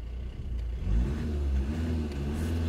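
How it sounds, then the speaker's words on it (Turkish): A Volkswagen Tiguan 2.0 TDI diesel engine revs up steadily, its deep drone rising and holding at a higher pitch against the rev limiter, close by with no talking. "şöyle aracın bir motor sesini size dinleteyim mi?"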